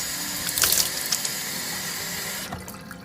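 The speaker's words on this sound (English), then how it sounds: "She splashes water on her face." Running water from a bathroom sink tap splashed onto a face, with a few close, brighter splashes early on, then a steady quiet flow that fades near the end.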